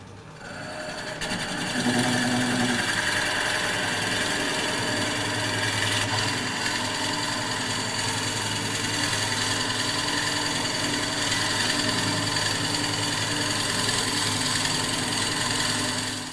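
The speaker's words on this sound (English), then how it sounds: "I picked the biggest Forstner bit I can pick for this" A loud, steady motor whine of a drill turned down to low speed, boring into wood with a large Forstner bit, runs continuously after a short start-up, close and unbroken.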